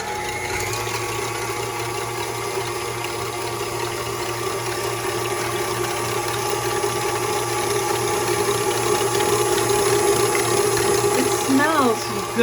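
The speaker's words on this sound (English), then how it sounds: "with our wet ingredients, we're going to whisk them a little bit" Egg and other wet ingredients for a zucchini cake being whisked in a bowl: a close, steady mechanical whirring with ratchet-like ticking that grows slightly louder toward the end.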